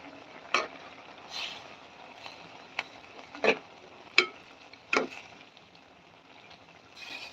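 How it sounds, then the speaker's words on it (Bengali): Shrimp and potatoes frying in a pan while a spoon stirs them, with soft sizzling underneath and several scraping strokes at irregular intervals. "চিংড়ি মাছটা দিয়ে নিচ্ছি"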